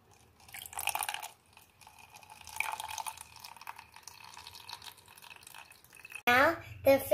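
Water is poured into a bottle ecosystem for a school project, giving soft dripping and trickling sounds, with a brief louder splash and voices near the end.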